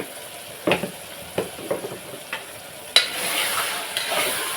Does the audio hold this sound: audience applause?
no